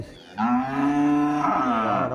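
Aged cattle at a village livestock market in Vaniyambadi let out one long, loud moo that swells after a brief pause and holds steady for nearly two seconds, close by, with no talking over it.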